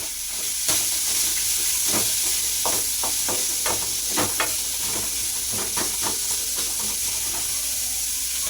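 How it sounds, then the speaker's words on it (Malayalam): Onions and curry leaves sauté in a pan, a steady close sizzle broken by scattered clicks and scrapes of stirring. "സവാള ഇതെല്ലാം നല്ലോണം ഒന്ന് വഴറ്റിയെടുക്കണം."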